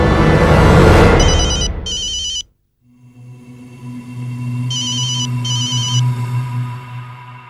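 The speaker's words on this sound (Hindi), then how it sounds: "अरे किसका फोन बज रहा है?" A telephone rings in a Hindi TV crime drama household: two electronic ring bursts, a short silence, then a steady hum with two more ring bursts, fairly loud and with no talk.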